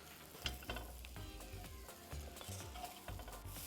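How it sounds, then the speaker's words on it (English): Onions and mushrooms frying in a pan for beef stroganoff, with a steady close sizzle broken by repeated scraping and stirring clatter, no talking. "it's time to fry the onions and the mushrooms"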